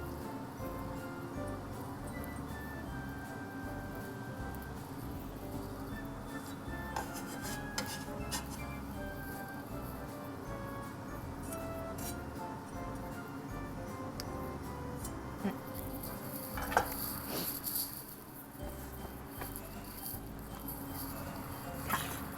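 Utensils clink and scrape in a bowl as a Thai grilled pork neck salad is tossed with vegetables, a soft continuous rustle with occasional sharper taps, fairly quiet.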